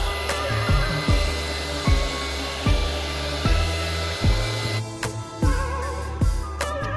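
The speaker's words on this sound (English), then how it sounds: "I use the heat tool again to fast dry that as well." A heat tool blows steadily to dry a coat of Mod Podge on a fall-themed decoupage craft, a continuous airy whoosh with a low hum and faint periodic ticking throughout, no talking.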